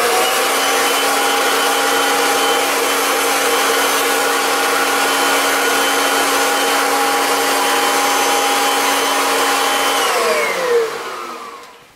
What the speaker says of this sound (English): just put the adjustment nozzle on so you can reduce it, and then you can vac off your LaserDisc player or your DVD player or Blu-ray player